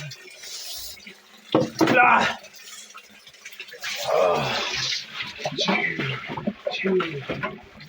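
Water splashes and trickles in bursts while clothes are washed with detergent, mixed with scrubbing and sloshing, while people talk in the background.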